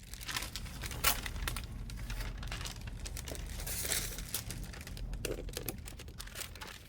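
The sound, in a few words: handling tracing paper under truck door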